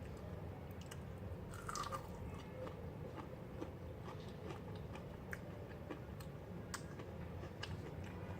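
Close, quiet chewing and crunching on homemade fried shrimp, with soft irregular bites and clicks scattered over a low room hum, no speech.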